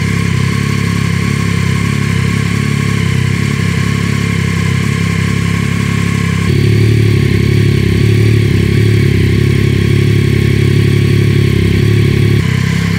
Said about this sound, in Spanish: este es el sonido de la moto a ralentí con el escape de serie